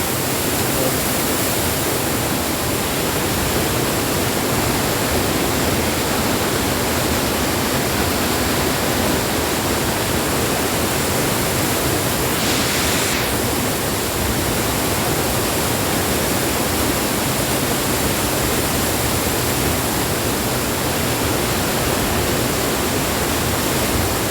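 A waterfall roars continuously over rocks at Karinkappara, Vailathur, a loud, even rush of water that never lets up.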